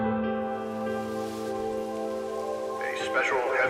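Heavy rain from the animated film Weathering with You, a steady dense hiss under sustained tonal music, with voices coming in near the end.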